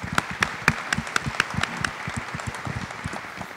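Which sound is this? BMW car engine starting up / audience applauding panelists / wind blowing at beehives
audience applauding panelists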